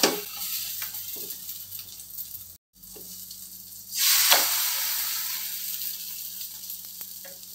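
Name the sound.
omelette with onion and green chili frying in pan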